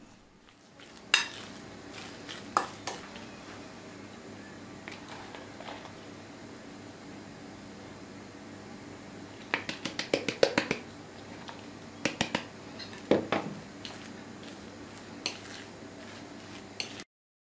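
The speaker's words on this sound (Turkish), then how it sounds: "Daha sonra içine haşlanan sebzelerimi ilave edeceğim ve karıştıracağım." Boiled vegetables being stirred in a pot, with scattered sharp clinks and scrapes of a utensil against the metal, clustered in quick bursts around the middle and later on, over a quiet kitchen background without talk.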